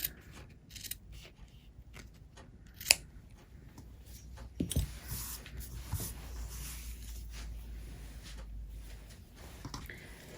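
Scissors trimming the fabric seam allowance of a small sewn lip balm key ring holder make quiet, close snips and soft rustles, with a sharper click partway through.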